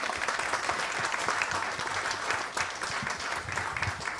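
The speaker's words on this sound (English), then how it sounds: "Can we please have a round of applause for everyone?" An audience at an industry conference applauds panelists, a dense, continuous wash of clapping from many hands, fairly close and sustained throughout.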